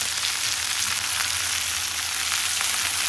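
Onions and green chillies frying in oil in a kadhai give a steady, loud, close sizzle that holds evenly throughout, with no voices over it.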